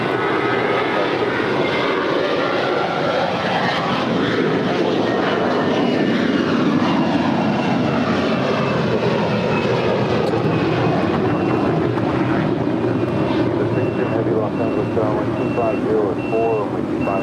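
An airliner takes off from runway 25 right at LAX, its engines a continuous loud roar that holds steady throughout, with faint radio-like voices beneath.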